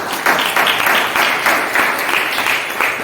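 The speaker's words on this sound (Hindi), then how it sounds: "इस बात पे तालियां होनी चाहिए।" A church congregation bursts into applause, a dense wash of many hands clapping steadily for several seconds, fairly loud and close with no other sounds over it.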